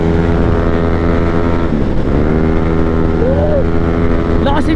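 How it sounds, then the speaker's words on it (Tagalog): Yamaha Aerox scooter engine droning steadily while riding on a Bicol road trip, a loud continuous hum with wind rush throughout and a rising whine near the end. "Lakas ng motor ni Mer."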